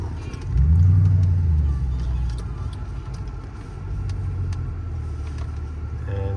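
Genesis 5.0 car floored in first gear on the road, a deep engine rumble surging loudly for a moment then settling into a steady drone, heard from inside as people talk.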